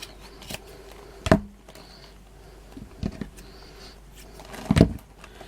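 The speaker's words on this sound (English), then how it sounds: "So cut this one down in size." Scissors snip fabric cut from a bolt for a Halloween witch wreath craft, with three sharp, separate cuts spaced apart in a quiet room.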